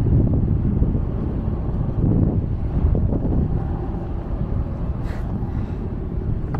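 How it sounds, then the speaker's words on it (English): Strong wind gusts buffet a rooftop and microphone in a steady, loud low roar that swells and eases without pause, with no speech. "The wind just picked up"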